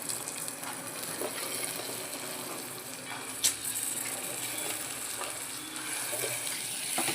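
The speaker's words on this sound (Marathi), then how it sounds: "आपली ही जी गवार आहे ना त्याच्यामध्ये टाकणार आहोत।" Cluster beans tossed into a hot pan of spiced masala sizzle with a steady, hissing crackle, punctuated by a brief scrape or clatter as they are stirred and sautéed.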